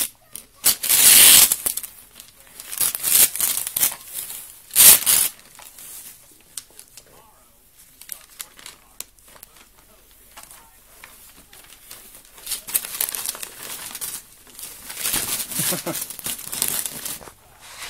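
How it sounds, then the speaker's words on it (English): Paper is pulled off and torn away from a gift while a family opens presents, with loud crinkling and ripping bursts alternating with quieter rustling and some talk over 18 seconds. "Pull the paper off."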